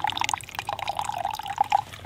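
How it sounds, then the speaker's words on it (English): Cold water is poured over cowboy coffee in a Jetboil stove cup on the trail to settle the grounds; a short, close trickling pour with splashy dripping, heard alone. "use a little bit of cold water across the top just to settle the grinds"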